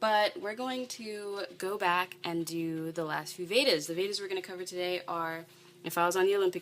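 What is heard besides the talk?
No distinct noise like a dog, phone or traffic.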